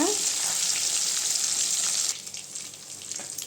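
Kilanga fish sizzles steadily in hot oil in a pan, a loud, close frying hiss that drops and becomes more crackly partway through.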